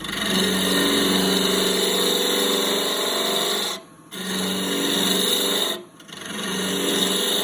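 A lathe tool peels the side grain of a spinning wooden mortar, giving a loud continuous rasping scrape with a motor hum underneath, briefly easing off twice as the cut lifts, close up and without talk.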